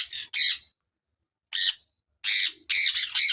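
Sharp, loud squawks from a colony of budgerigars on a farm come in irregular bursts, separated by brief silences.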